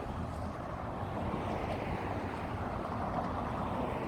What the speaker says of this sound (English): Sorry, there's a lot of car traffic.